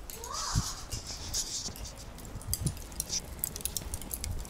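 Lula kebab of minced meat crackling and sizzling on skewers over a grill, a steady fine crackle with scattered louder pops and faint background noises, no talk.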